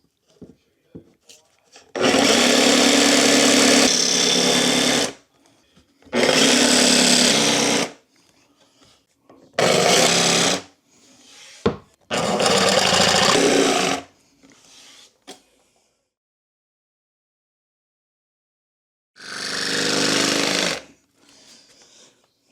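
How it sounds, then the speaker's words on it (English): A battery jigsaw fitted with a metal-cutting blade, used in a Ford Transit Custom camper van conversion, cuts in loud buzzing bursts of a few seconds each, separated by short pauses, with no talking. "The metal blade and the jigsaw is working really well."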